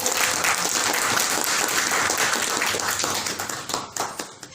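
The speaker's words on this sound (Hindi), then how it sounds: "ताली बजाइए" An audience at a talk in a Kanpur addiction recovery centre claps together, a loud, continuous patter of many hands that thins and becomes more scattered toward the end.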